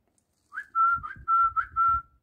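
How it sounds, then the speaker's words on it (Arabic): A clear, close training whistle for a falcon, repeated in three rising-then-level bursts, each lasting about half a second, with brief gaps between them. "بتعود الطير بتاعك بقى على صفارة معينة"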